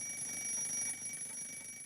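An alarm clock rings faintly inside a capsule as air is sucked out, a steady, high-pitched electronic tone that sounds muffled and distant, with no other sounds around it.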